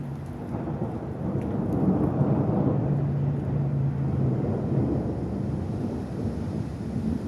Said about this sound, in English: And I assume you can hear the thunder